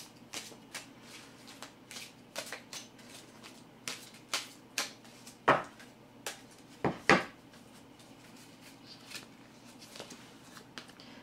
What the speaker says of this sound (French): Allez, on va tirer la petite carte de conclusion.